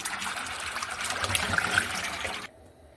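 Pumpkin seeds are washed vigorously by hand in water, making a soft continuous sloshing and trickling for about two and a half seconds before it stops abruptly.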